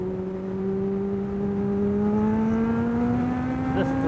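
Kawasaki ZX-12R motorcycle with a full exhaust system on the road, a loud steady engine drone whose pitch climbs smoothly as it accelerates, close and continuous with no talk.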